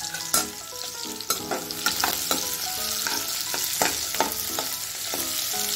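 Whole spices frying in hot oil in a pan for potato masala rice, a dense, loud sizzle with repeated spatula knocks and scrapes stirring through, close up and without speech.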